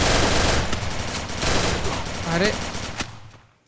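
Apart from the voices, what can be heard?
gunfire in the video game Free Fire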